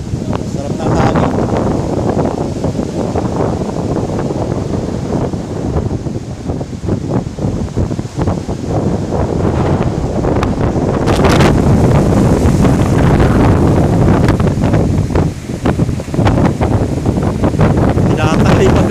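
Strong wind blowing outdoors at an open hilltop spot in Bulacan, Philippines, buffeting the microphone with loud, gusty rumble that swells and surges continuously.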